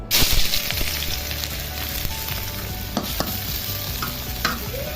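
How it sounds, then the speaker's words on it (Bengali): Onions frying in hot oil in a pan while fish is being cooked, with a steady close sizzle, a few stirring scrapes and clinks, and no talk. "পেঁয়াজ ভাজা হয়ে গেছে"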